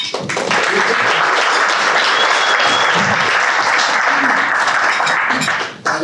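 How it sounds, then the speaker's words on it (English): A breakfast audience at a veterans recognition event gives the honor guard a loud round of applause, dense and sustained for several seconds before fading out. "Give the honor guard a round of applause."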